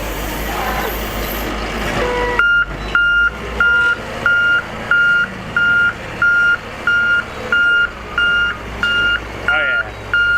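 A Case 821F wheel loader backing up while cleaning feedlot corrals, its reversing alarm beeping in a steady, evenly spaced series over the rumble of the diesel engine close by.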